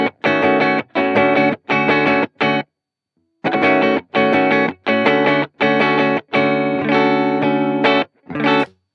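Electric guitar played through a BOSS BP-1w preamp pedal, loose improvised phrases in short bursts of sustained, harmonically rich chords with a pause partway, close and loud with no talking.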